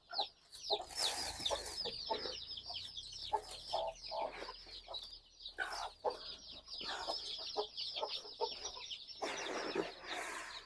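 Young chicks cluck and peep steadily while pecking at mixed feed, many soft close calls overlapping in a busy, continuous farmyard chatter with no talking.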